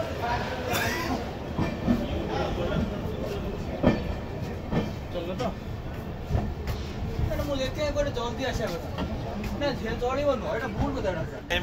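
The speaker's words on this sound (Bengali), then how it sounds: "ট্রেন ছাড়লো শিয়ালদা স্টেশন, কাঞ্চনজঙ্ঘা এক্সপ্রেসের ফার্স্ট এলএইচবি জার্নি শুরু হলো শিয়ালদা স্টেশন থেকে।" Kanchanjunga Express pulling out of Sealdah station on the first run of its brand-new LHB coaches: a steady rolling rumble with soft clattering from the rails, and voices murmuring nearby throughout.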